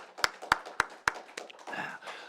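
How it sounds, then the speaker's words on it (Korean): Four sharp, evenly spaced claps in a church worship service, fairly close and quiet, followed by a softer, scattered patter that fades into murmuring. "감사와 영광의 박수를 올려드리겠습니다"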